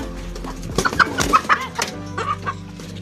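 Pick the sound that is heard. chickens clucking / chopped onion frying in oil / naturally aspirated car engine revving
chickens clucking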